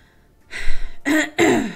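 Three quick, close throat clearings come from a streamer's voice after a brief silence, the last two louder and raspier, with no talk around them.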